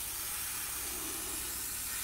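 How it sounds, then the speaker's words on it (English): Airbrush test spray of pearl red paint for a custom RC car body shell: a steady, close, breathy hiss of air and paint mist running unbroken with no talk. "Always test spray it afterwards, make sure it's the right colour."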